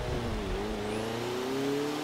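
A Fiat 124 Spider Abarth engine in Forza Motorsport races on a rainy track, holding a steady, loud drone that rises smoothly in pitch as it accelerates, with no talk over it.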